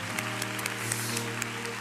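A church congregation applauding at a Tuesday worship service, a dense, steady wash of many hands clapping together with sustained organ or keyboard chords underneath, no speech.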